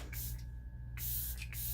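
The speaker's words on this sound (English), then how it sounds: "Go ahead and just put some setting spray on and be done." Makeup setting spray mists onto a face in two sharp pump bursts, each a loud breathy hiss close to the ear, separated by a short pause against a low steady hum.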